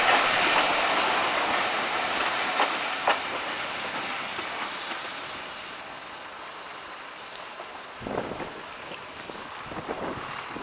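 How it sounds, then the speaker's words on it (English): A heritage locomotive, L92 in London Transport livery, pulls into Cornham Woodhouse station on the Great Central Railway with a Leicester North to Loughborough passenger train. A steady rumbling roll with wind buffeting is heard, and sharper rail clanks come near the end. "Restored in London Transport livery, L92 arrives at Cornham Woodhouse with the 12:45 p.m. Leicester North to Loughborough service."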